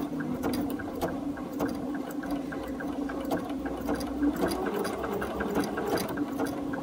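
A BERNINA sewing machine sews on a button with a close, continuous, steady mechanical whir and rapid needle rhythm throughout, with no talk.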